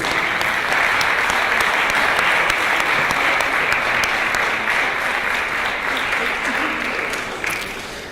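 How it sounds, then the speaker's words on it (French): Audience applause at a congress, honoring the team coordinator Anwar Alaoui, a dense, steady wash of many hands clapping that carries on for several seconds and slowly tapers toward the end. "Anwar Alaoui, que je vous demanderai d'applaudir"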